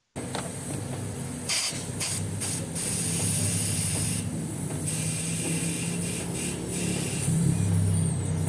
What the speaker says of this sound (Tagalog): So sinubukan niyang bugahan ito ng hangin ngayon